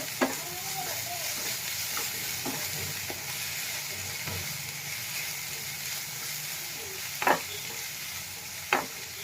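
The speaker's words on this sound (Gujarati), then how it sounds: "આપણે આને 2 મિનિટ માટે થોડું સાતળશું." Sprouted moong being sautéed with red chilli powder, a quiet continuous sizzle under occasional spoon scrapes and two sharper knocks against the pan near the end.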